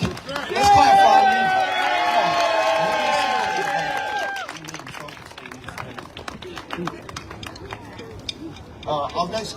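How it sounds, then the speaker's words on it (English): A crowd at a school funding event in Brownsville, Brooklyn, breaks into applause, with cheering and voices over it at first, then scattered rhythmic clapping and chatter that continue to the end. "Let's clap for"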